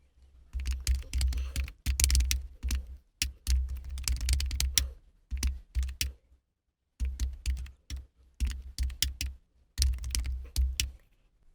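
Computer keyboard typing and mouse clicking while entering data in an Excel spreadsheet, with rapid clattering bursts of keystrokes and clicks separated by short pauses, close and alone.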